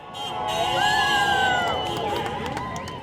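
Around a hundred people rally outside City Hall before a meeting, cheering in a sustained, fairly loud hubbub with a mix of voices and shouts.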